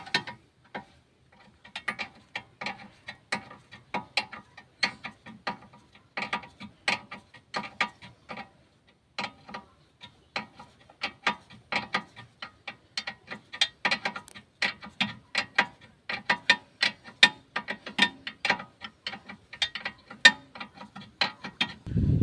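A spanner works the top nut of a car's lower control arm with a fast, steady run of crisp ratcheting ticks that keeps going for a long stretch, close and fairly quiet.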